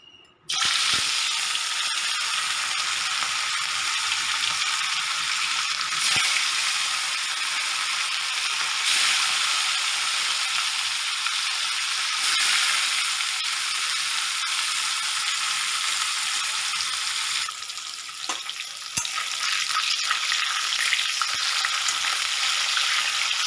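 Fish pieces frying in hot mustard oil for a dhaba-style fish curry, a steady loud sizzle and crackle running throughout with small bubbling bursts, close up and without any voices.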